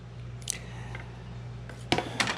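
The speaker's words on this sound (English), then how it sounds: "Bring this down and just cut it straight across." Material being cut straight across with scissors during a bow hatch modification on a Slayer Max 12.5 kayak: a few quiet, crisp snips spaced apart over a steady low hum.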